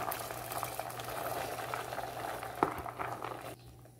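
Black-eyed beans simmering in a broth, a steady bubbling and gentle popping, close and quiet, with one sharp clink before the sound drops off near the end.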